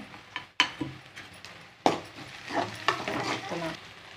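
Fennel seeds, cinnamon, onion and green chilies drop into hot oil for a potato and pea kurma, giving soft sizzling with repeated spoon scrapes and knocks against the pan at close range.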